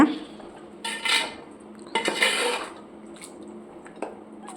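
Beef pickle being stirred in a pan, a spoon scraping and clinking against the metal in a few bursts, fairly close and moderately loud, with no talking.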